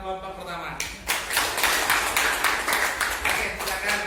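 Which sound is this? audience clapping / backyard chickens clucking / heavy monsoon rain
audience clapping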